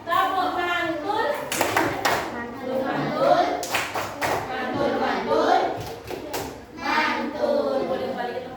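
Schoolchildren in a classroom perform a 'tepuk mantul' clap chant, sharp rhythmic claps bursting in irregular clusters among chanting young voices, fairly close and lively, with a teacher's voice mixed in.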